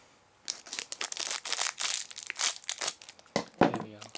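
Foil wrapper of a Magic: The Gathering booster pack being torn open and crinkled by hand, a close series of sharp crackling rips and rustles.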